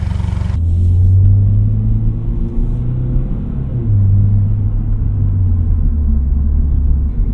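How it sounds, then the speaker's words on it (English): Active exhaust on a 2025 Toyota GR86 Premium, a loud, deep engine rumble close by that rises and falls in pitch as the revs shift, steady throughout with a brief brighter burst at the start. "This active exhaust, probably my favorite part of this vehicle. It just sounds really, really good."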